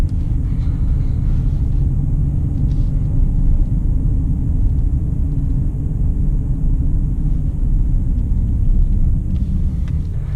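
A 2018 Jaguar E-Pace P250 First Edition with a 250-horsepower four-cylinder engine drones steadily from inside the cabin while driving, a loud, constant low rumble with road noise and no talk.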